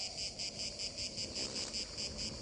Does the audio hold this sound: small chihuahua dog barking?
no